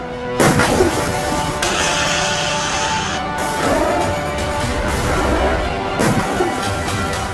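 Several missiles fire one after another, each launch a harsh, loud blast with a roaring rush. The booms come a few seconds apart over a constant rumbling background.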